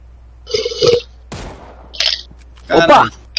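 Gunfire in the battle-royale video game PUBG: a sharp shot cracks out, with a few more short bursts scattered over several seconds amid other game noise and voices.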